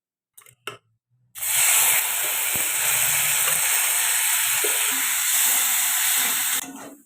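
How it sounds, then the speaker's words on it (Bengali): Lentils for vegetarian khichdi drop into hot oil in a wok on a gas stove, bursting into a loud, steady sizzle that holds for several seconds before cutting off, preceded by a few soft clicks. "কড়াইতে তেল গরম হয়ে গেছে, ওইতে আমি ডালটা দিয়ে দিচ্ছি।"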